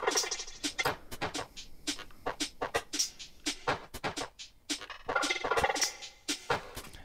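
Busy granular texture from a Bitwig Snap Heap rack generator patch, a dense run of short clicky, bleating bursts at irregular rhythm, bright and fairly quiet, playing alone without talk.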